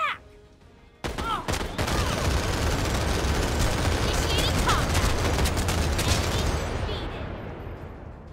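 A minigun in Final Fantasy VII: The First Soldier opens up after a short lead-in and roars as one loud, unbroken stream of rapid fire for several seconds, then trails off at the end.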